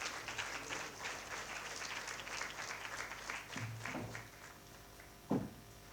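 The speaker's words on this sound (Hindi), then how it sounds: "तो आइए तालियों के साथ हम स्वागत करते" An indoor audience at an author interview event claps to welcome a speaker, a steady patter of many hands heard at moderate distance, with a louder knock near the end.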